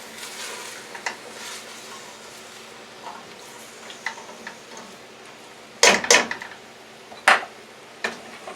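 Beef browning in olive oil for stew gives a soft, steady sizzle, with a few sharp clanks and scrapes of a utensil against the pot, close and without talk.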